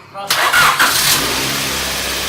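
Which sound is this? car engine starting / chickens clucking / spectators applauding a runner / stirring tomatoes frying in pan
car engine starting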